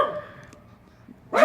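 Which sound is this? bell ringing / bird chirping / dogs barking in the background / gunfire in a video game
dogs barking in the background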